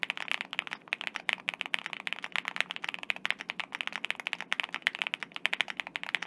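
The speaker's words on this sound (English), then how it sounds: "QK65 with Epsilon switches with a full foam build. And this is what I would consider the marbliest sounding keyboard in Mecha" Rapid keystrokes on a QK65 keyboard fitted with Epsilon switches and a full foam build, a steady stream of crisp, clacky clicks at close range with no talking.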